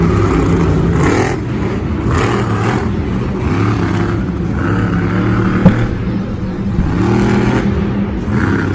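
Monster truck at a Monster Jam event in Indianapolis, its V8 engine running rough and misfiring, loud close revving that swells and dips repeatedly with crowd noise in the arena.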